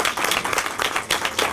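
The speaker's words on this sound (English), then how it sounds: "maybe a second round of applause for Professor Ryan Irwin" Brief burst of audience applause for Professor Ryan Irwin, a short patch of close, dense clapping lasting under two seconds.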